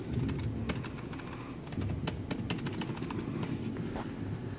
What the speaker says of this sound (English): I'm hitting my keyboard key